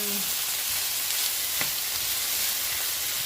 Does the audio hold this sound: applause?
no